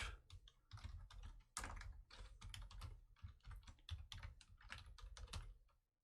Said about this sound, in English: I'm gonna hit my enter key